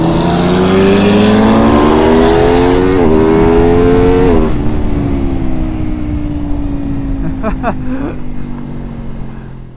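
A motorcycle engine with its exhaust butterfly flap opened revs loudly and close, the pitch climbing through rising throttle blips before settling into a lower, rumbling idle, with speech over part of it.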